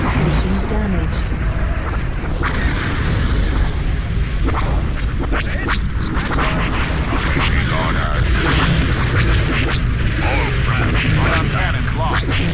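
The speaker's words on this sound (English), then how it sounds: "The different blast effects are now a bit different and better." Laser cannon blasts and explosions from a Star Wars Empire at War space battle crackle and boom in a dense, loud, continuous barrage, with a voice talking over the battle sounds.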